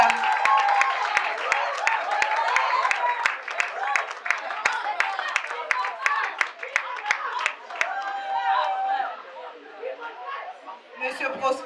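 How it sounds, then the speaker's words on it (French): An audience claps at a certificate ceremony, a sustained mid-distance round of many hands under overlapping chatter and voices, tapering off in the last few seconds. "Et pour suivre, applaudissons."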